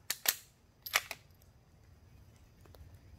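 Rifle shots fired at plants through a scope outdoors: two sharp, loud cracks close together, then a second pair about a second later, each snapping off quickly and followed by quiet background.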